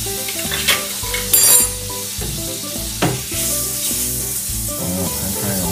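Butter hits a hot frying pan and sizzles loudly as it melts, with utensils clinking and scraping against the pan. Tonal background music plays throughout.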